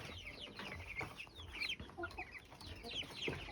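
Small chick, recently hatched and hand-fed, cheeping in rapid high-pitched chirps repeated throughout, close by and fairly steady, with no talking.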